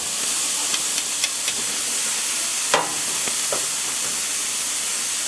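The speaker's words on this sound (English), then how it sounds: "we're gonna start off with the flank steak and give it some high heat" Flank steak searing over high heat on a hot BBQ grate, a loud, steady hiss filling the whole stretch, with a few faint ticks and one sharper pop partway through.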